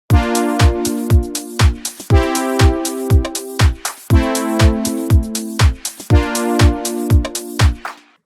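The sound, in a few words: software instrument playing triad chord progression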